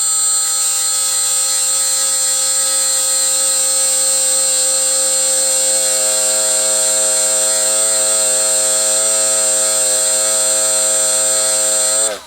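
A power tool fitted with 2000-grit abrasive sands an engine timing gear in a steady, high-pitched electric whine that holds constant for about twelve seconds, then winds down at the end, close and loud.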